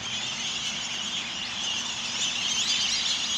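Birds calling near a lake, heard while riding a bicycle: a dense, steady wash of chirps and calls, fairly loud and continuous, with no talking.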